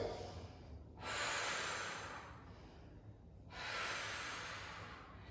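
Someone breathes hard during an abdominal strengthening exercise, with two long, forceful breaths about two seconds apart that rush like air pushed through the mouth. The breaths are close and quiet, with only a faint hush between them.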